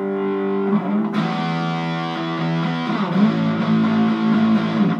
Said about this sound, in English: You don't want the full distortion the whole time.